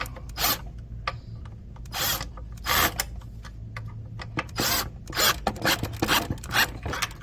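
Wrench and socket tightening and torquing down bolts during the crate build of a Tao Tao A1 Pony 50cc ATV, heard as repeated short ratcheting rasps in bursts with pauses between them, close by and with no talk.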